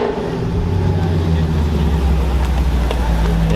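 An Audi R8 supercar's engine drones loud and steady on a mountain road at Chamrousse, a low continuous rumble with a slight rising rev toward the end, close by.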